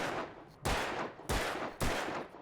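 Gunfire in the video game Alan Wake Remastered: three sharp, loud shots spaced roughly half a second apart, each with a booming, decaying tail, and the end of an earlier shot's decay at the start.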